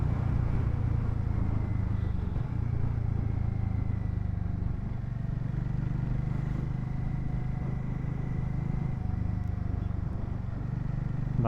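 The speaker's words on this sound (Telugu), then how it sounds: "బండి ఎగ్జాస్ట్ నోట్ అసలు కెమెరాలో ఎలా క్యాప్చర్ అవుతుందో చూడండి" Motorcycle exhaust note, a low steady engine rumble close by, holding a rough idle with slight shifts in pitch and no talking over it.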